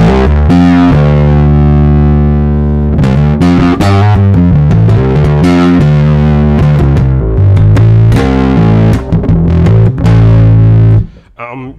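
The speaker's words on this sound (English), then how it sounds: "I love big muffs. These are fuzz pedals from Electro Harmonix." An electric guitar through an Electro Harmonix Big Muff fuzz pedal plays thick, saturated sustained chords and riffs, loud and close, with sharp picked attacks and a final decaying strum.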